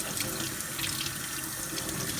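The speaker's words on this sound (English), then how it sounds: "what I'm doing is just rinsing it off" Steady running tap water pours into a sink as a small Sinningia seedling tuber is rinsed, a continuous close splashing hiss with no speech.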